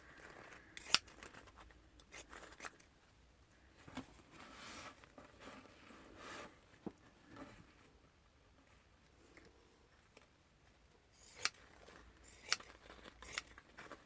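Scissors snip pieces off craft material in scattered sharp cuts with quiet handling rustles between them, close and fairly soft, no one talking.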